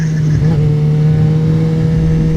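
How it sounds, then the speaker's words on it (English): A motorcycle engine at full throttle in second gear, either a Suzuki GSX-R600 or a Yamaha YZF-R15: a loud, steady, droning engine note held close to the microphone throughout. "There's full throttle in second gear."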